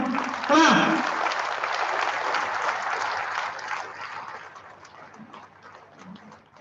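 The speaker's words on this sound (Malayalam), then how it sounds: "മുഴുവൻ ജനപ്രതിനിധികൾക്കും ഒരു വലിയ കയ്യടി നൽകി അവരെ നമുക്ക് നഗരസഭയിലേക്ക് സ്വീകരിക്കാം" Crowd applause welcomes newly sworn-in municipal council members at a Sultan Bathery municipality oath ceremony, a dense sustained patter of many hands that swells early and then slowly thins out and fades.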